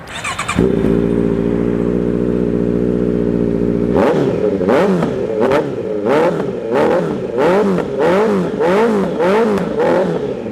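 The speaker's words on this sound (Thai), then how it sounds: "คันนี้ครับ มาพร้อมกับท่อแต่งจากเอสเปกเดี๋ยวมาฟังเสียงกันเลยนะครับ" A 2018 Honda CBR650F with an aftermarket exhaust idles loudly up close. After a few seconds the engine is blipped in a rapid series of sharp revs, each rising and falling, with a raspy, throaty exhaust note.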